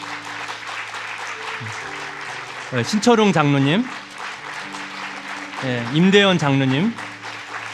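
Church congregation applauding elders at a New Year's Eve service, a steady crowd clapping beneath an amplified announcer naming people in Korean.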